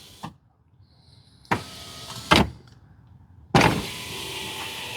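Power window on a 2024 Toyota Tacoma rolling up into a newly installed rain guard, heard as a few short motor whirs and clunks with quiet gaps, ending in a longer run as the glass closes, near and without talk.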